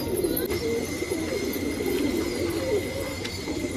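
A female pigeon of an old Pakistani breed gives a low, continuous throaty coo while held in the hand, close and steady, with faint handling rustle.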